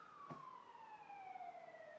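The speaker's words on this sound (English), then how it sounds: "We don't normally have sirens down here in Torrance." A police siren wails outside in Torrance, faint and distant, a single steady tone sliding slowly downward for about two seconds against a quiet background.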